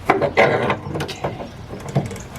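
Ratchet mechanism clicking while a gas tank is removed from a 1998 Jeep Cherokee, a quick run of close mechanical clicks and clacks with metal handling noise, loud and near with no talk.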